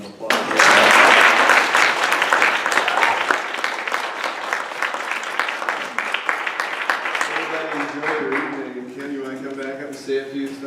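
Audience applause at a community unity award ceremony, loud and sustained from the start, then tapering over several seconds as a voice begins to speak over the fading clapping.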